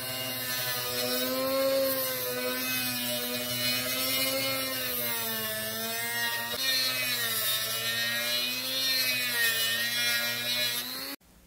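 A Dremel rotary tool whines steadily in a garage while routing a clearance cavity in a scalloped-neck SuperStrat guitar body. The pitch wavers as the bit loads and unloads, then cuts off abruptly at the end.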